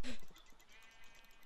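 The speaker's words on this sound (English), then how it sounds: "I'm killing sheep with my fists." A short, faint sheep bleat sounds from a video game as the sheep is punched, followed by quieter game ambience.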